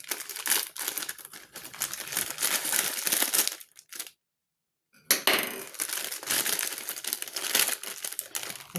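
A Maggi noodle packet being cut open, with close, busy plastic crinkling that crackles steadily, stops for about a second of silence, then resumes just as densely, with no talk.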